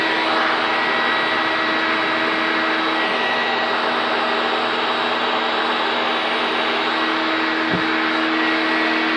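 A double gas burner running at 5 psi gives a steady, loud, broadband roar that holds without change for several seconds, with one brief low thump near the end and no talk.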